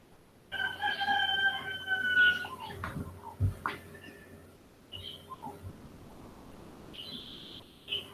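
A rooster crows and birds call around a farmyard where chickens, ducks, geese and small birds roam, the crowing rising clearly at the start and other calls following intermittently at moderate distance.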